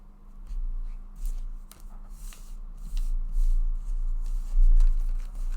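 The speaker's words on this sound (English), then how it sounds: "right now, I'm going to move on to deck of cards number 3" A deck of tarot cards being shuffled: soft papery riffling and rubbing in uneven bursts, close by and fairly quiet, with no talking.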